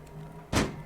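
A single dull thunk of a door opening in the horror video game Poppy Playtime, short and fairly close, standing out once above a low steady game hum.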